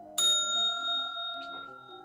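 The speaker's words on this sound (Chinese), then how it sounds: "铃声" A single bright bell ding, used as a timing signal for a food inspection practical exam, strikes sharply and rings out with a long sustained decay, with a fainter second tone near the end.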